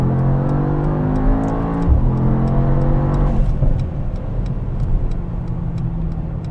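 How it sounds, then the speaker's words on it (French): A Brabus Rocket 1000 pulls hard in third gear, its engine note climbing steadily and loud, close-up from inside the car with a brief dip near two seconds before rising again. "je vais me mettre en troisième pour vous montrer les reprises"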